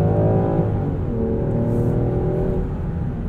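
The 3-liter inline six of a 2020 Land Rover Defender 110 SE pulls hard from inside the cabin, a smooth steady engine drone with rising harmonic tones as it accelerates.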